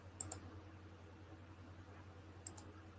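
A computer mouse clicks on a desk, two quick pairs of faint, sharp clicks at the start and again near the end, over a low steady hum.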